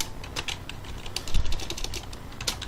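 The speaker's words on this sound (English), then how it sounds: "Sorry if you guys can hear my keyboard." Computer keyboard keys clack in quick, uneven bursts close to the microphone, with a slightly heavier thump partway through, recorded at a desk during a Minecraft setup.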